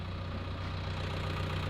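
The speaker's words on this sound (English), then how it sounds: "Just picked up some of that concrete there with the tractor." A tractor engine idles nearby during concrete removal work, a steady low rumbling drone with an even pulse and no talking.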